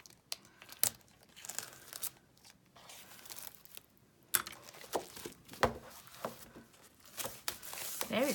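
Patterned craft paper is handled and unwrapped close to the microphone, with crinkling plastic, tearing and rustling sheets in irregular bursts and short pauses, and no voice.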